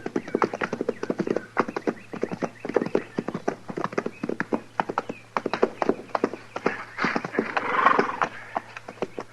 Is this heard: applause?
no